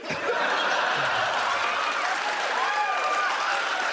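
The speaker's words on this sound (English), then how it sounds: "I think they're just applauding the payoff" A live comedy podcast audience breaks into steady, full applause mixed with scattered laughter and chuckles, a dense wash of clapping that holds at even loudness for the whole stretch.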